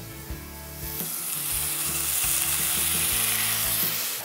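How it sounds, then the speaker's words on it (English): Chopped bacon sizzling in a hot skillet, a loud, steady crackling hiss that swells after the pieces drop in, with a few faint knocks from handling at the start, heard close up. "put that in our skillet that we have heating over here"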